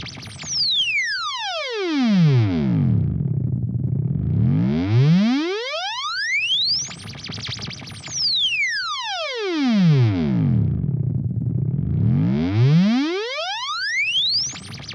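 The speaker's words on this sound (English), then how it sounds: "So that's basically the aliasing which is happening," Sine sweeps played through a Neural Amp Modeler amp profile, rising and falling tones with aliasing artifacts folding back as mirrored chirps, repeating twice in loud, gliding cycles with no voices.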